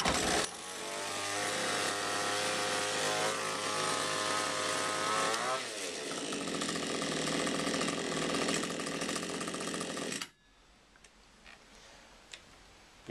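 Petrol multi-cutter engine started with a single recoil pull, then running loud and steady with a rising then falling revving note before cutting off abruptly into quiet.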